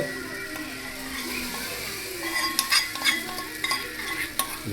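Chickpea pudla batter cooks in a hot pan, a soft continuous sizzle broken by scraping and stirring strokes from a utensil, growing busier toward the end, with no voices.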